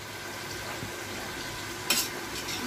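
Ginger, garlic and green chili frying in a pan for nihari give a steady, fairly quiet sizzle, with a brief, louder scrape of stirring near the end.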